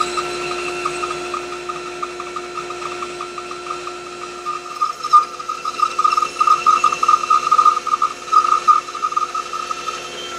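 A saw blade slowly cutting through a wooden back slat, with a steady high mechanical whine and tonal hum; the cutting grows rougher and more uneven in its second half, no voices present.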